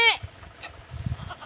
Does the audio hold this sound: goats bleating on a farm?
yes